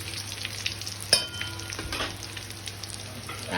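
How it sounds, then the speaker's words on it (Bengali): Whole spices crackle and fry in hot oil in a pan for a fish-head and cabbage dish, a soft steady sizzle with a sharp burst of spitting as they are stirred, close and without talk. "তেলটা গরম হয়ে গেছে, আমি এগুলোকে দিয়ে দিচ্ছি মশলাগুলো দিয়ে একটু নাড়িয়ে নিতে হবে"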